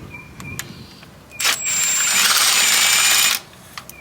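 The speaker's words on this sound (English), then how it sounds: "Once they're already broken loose, you just run them down with the drill" A power drill running spark plugs down in a car engine, a brief click or two followed by a steady high whirring buzz lasting about two seconds, then stopping, close by.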